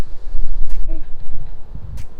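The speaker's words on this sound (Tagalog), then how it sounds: "Mahangin lang siya." Gusty wind at Auckland Botanic Garden buffets the microphone in low, rumbling bursts, loud and close, with faint rustling between the gusts.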